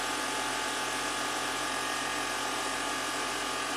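Air suspension compressor on a 2014 Audi Q7 TDI raising the rear, a loud continuous buzzing mechanical drone, steady and close throughout.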